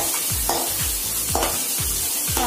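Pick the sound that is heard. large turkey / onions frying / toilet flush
onions frying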